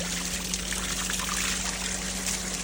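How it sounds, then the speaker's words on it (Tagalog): Steady broadband rush of flowing mountain water at a roadside bathing spot in Matanao, Davao del Sur, continuous and fairly close, with a faint low hum underneath and no voices. "Water flow."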